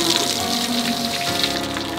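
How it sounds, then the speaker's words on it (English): A water fountain on a farm splashes and gushes steadily, a continuous close rushing spray of falling water heard alone without talk. "isn't this a beautiful water feature we have on this farm today?"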